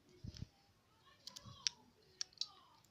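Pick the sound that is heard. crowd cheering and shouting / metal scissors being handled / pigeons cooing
metal scissors being handled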